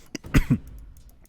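A gamer gives one short, close cough with a couple of quick throaty bursts, then breathes faintly as quiet game sounds continue.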